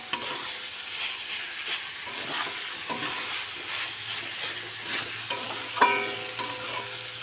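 Taro stolons (kochur loti) frying in a pan while being stirred, a steady close sizzle with scraping and clinks of the spatula throughout, no voices.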